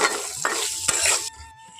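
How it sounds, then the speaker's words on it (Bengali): Potato pieces seasoned with salt and turmeric fry in a pan as they are stirred, giving a bright sizzle with a couple of utensil scrapes before the noise drops off sharply. "এখন এইভাবে নাড়াচাড়া করে আলুগুলোকে খুব ভালো করে লাল লাল করে ভেজে নেব"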